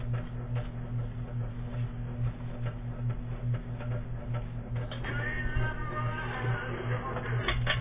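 A novelty clock plays a steady ticking and tinny mechanical tune with a low repeating hum, close-up and fairly quiet throughout.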